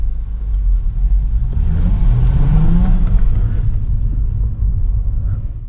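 Stock Chrysler Crossfire with a 3.2L V6 revving inside a tunnel, a loud, booming low rumble that swells to a peak around the middle and then holds steady, with echoing reverberation.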